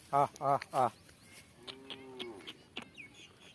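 A cow moos once, a low drawn-out call in the middle, after three short sharp sounds at the start, with faint scattered noises and distant bird chirps around it.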